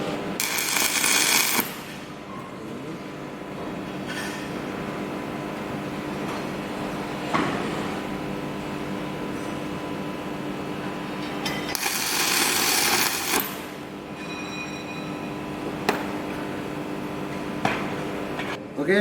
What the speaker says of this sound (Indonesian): sebelum kita melakukan las sambungan sudut atau fillet joint, kita melakukan tack weld dulu